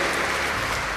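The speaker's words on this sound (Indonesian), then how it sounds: "Tepuk tangan untuk para Civitas Akademika dan semua yang terlibat dalam pendidikan ini" Audience applause at a public lecture at Universitas Tadulako, a steady wash of clapping from a large crowd filling the whole second with no break.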